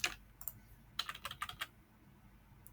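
Close computer keyboard typing, entering an income statement date into a spreadsheet, comes as an opening click, then a quick run of crisp keystrokes and a final tap, with quiet gaps between.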